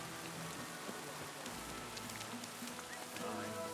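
Steady rain falls in a video game scene, a dense, even hiss of drops with faint ambient tones underneath, continuous and fairly loud throughout with no clear voices.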